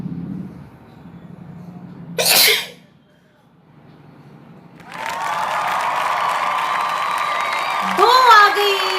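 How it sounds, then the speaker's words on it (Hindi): A woman sneezes after sniffing black pepper at a wash basin: one sharp, loud burst, then a pause, and after that a long stretch of noisy nose-blowing and sniffling that ends in a vocal whoop. "अब मुझे ज्यादा नोजी आएगी तभी तो मैं जाऊंगी वॉश बेसिन के पास छींकने।"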